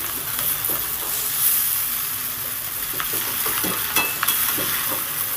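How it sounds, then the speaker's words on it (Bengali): Egg chow mein noodles stirred and tossed while frying in a pan, a steady close sizzle with scraping stirring strokes throughout, no talk. "একটু হালকা হাতে নাড়তে হবে দেখুন খুব ভালো করে নেড়ে চেড়ে দিচ্ছি"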